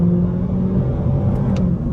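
Interior engine drone of a 2024 Honda Civic Sport with CVT under acceleration, a steady loud low hum with a held tone, no voices over it.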